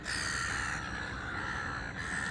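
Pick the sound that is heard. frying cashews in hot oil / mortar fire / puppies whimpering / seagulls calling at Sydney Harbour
seagulls calling at Sydney Harbour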